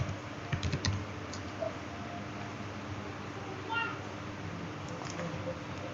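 Keystrokes on a computer keyboard while Arduino code is typed into a Wokwi simulator, with a quick burst of clicks early on, then sparse, soft taps over a steady low hum.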